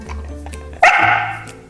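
A husky barks once, loud and close, a sharp bark with a drawn-out tonal tail, rising abruptly out of low indoor background rumble.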